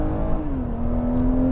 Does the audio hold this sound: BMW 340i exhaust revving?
yes